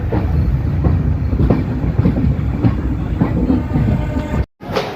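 The 18464 Prasanti Express runs along the rails with a steady, loud rumble and rhythmic clickety-clack of wheels over joints, close and continuous before a brief cut near the end.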